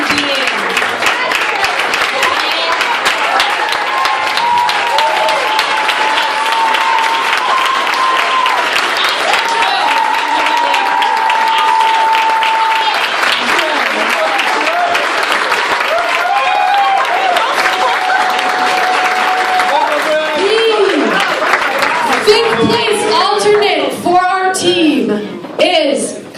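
Sustained applause from a poetry slam audience at AS220 in Providence, loud and continuous for over twenty seconds, with cheers and whoops rising toward the end and a voice speaking over it.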